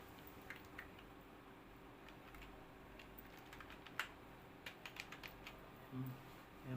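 Keys on a computer keyboard tap quietly in short irregular bursts while a serial number column is typed into an Excel payroll spreadsheet, faint and close with soft clicks.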